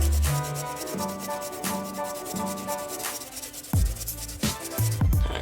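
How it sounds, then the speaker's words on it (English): Rhythmic scraping strokes of garlic rubbed against a metal grater in a home kitchen, each pass a close, raspy rub repeating steadily, with a few louder knocks toward the end. "I have the grater, so I'm gonna go ahead and grate some garlic."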